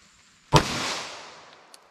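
A single sharp 9mm pistol shot firing Federal HST ammunition cracks loudly and close, then trails into a rolling echo that fades over about a second and a half.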